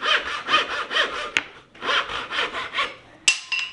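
A handsaw cuts wood in steady back-and-forth strokes, a rhythmic rasp of about six strokes, pausing once, with a sharp click near the end.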